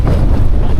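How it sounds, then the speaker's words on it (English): Strong wind buffets the microphone outdoors on a hilltop in the Peak District, making a loud, constant roaring rumble without speech. "it's windy"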